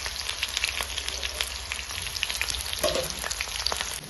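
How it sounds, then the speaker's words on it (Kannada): Chopped onion and curry leaves fry in hot oil, giving a steady, fairly quiet crackling sizzle with small pops, no voices over it. "ಉಳ್ಳಾಗಡ್ಡಿ ಚಂದ ಫ್ರೈ ಆಗ್ಯಾವ್ರಿ ಫ್ರೆಂಡ್ಸ್"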